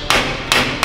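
A tiny hammer strikes a metal safe three times in a loose rhythm, each hit a close, sharp metallic clank with a short ringing tail, with no talk.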